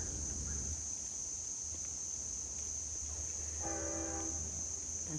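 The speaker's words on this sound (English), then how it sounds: "That's the train." A passing train sounds its horn in the distance, a steady held blast with rich layered tones near the end, over low rumbling rail noise and a constant high insect-like hiss, with no talking.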